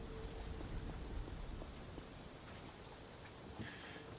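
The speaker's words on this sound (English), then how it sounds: "Rain greets you." Rain falls in the Zero Parades video game, a soft, continuous patter that fades away, with a few scattered drips and no voices.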